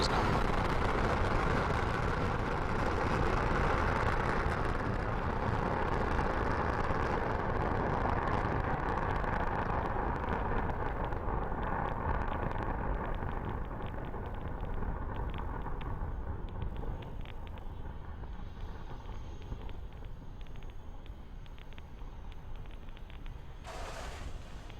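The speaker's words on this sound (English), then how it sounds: "Falcon-9 had an on-time liftoff through the fog from Vandenberg Air Force Base" A SpaceX Falcon 9 rocket roars after liftoff from Vandenberg Air Force Base in fog, a loud, continuous, broadband rumble that slowly fades as the vehicle climbs away.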